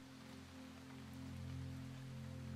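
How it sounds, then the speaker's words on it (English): Gentle rainfall for sleep meditation pattering steadily on a surface, a soft continuous wash with a low steady hum beneath, even and unbroken throughout. "Allow this rainfall to wash over you."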